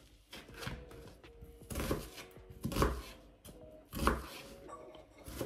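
Half an onion diced with a kitchen knife on a cutting board: a quiet, steady run of crisp chops in uneven clusters, with no talking.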